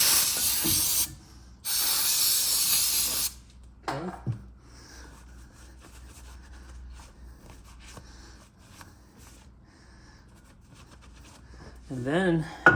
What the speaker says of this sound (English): just clean them with the brake cleaner after that.